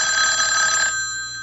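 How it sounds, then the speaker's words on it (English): A telephone bell rings in an old-time radio mystery drama, one sustained bright metallic ring that stops after about a second and decays away, alone and fairly loud. "when I wasn't even thinking about the phone, it rang."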